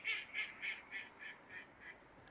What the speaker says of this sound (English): Ducks are laughing again.